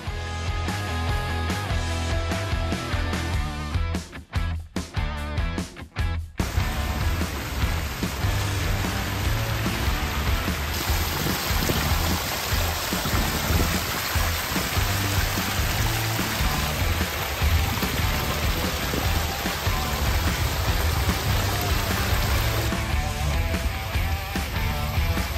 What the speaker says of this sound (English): this is a pondless waterfall you built a few weeks ago